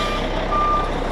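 Backup beeps from white trucks reversing, a steady tone sounding over loud, continuous engine rumble with no talking.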